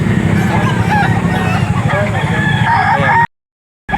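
A rooster crows loudly and close, with more crowing and clucking from several birds at a chicken market in Lipa, Batangas, then the sound drops out abruptly near the end.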